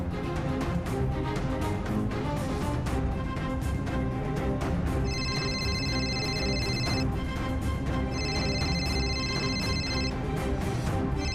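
A telephone rings in two separate bursts of electronic tones, set over loud, busy background sound in a Marathi TV serial scene.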